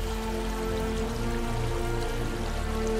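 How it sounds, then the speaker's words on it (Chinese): Stream and waterfall water flows through the forested mountains of Giant Panda National Park in Sichuan, China, a steady, fairly faint rushing wash that holds even throughout with no voices. "丰沛的降水为溪流和瀑布提供了源源不断的水源"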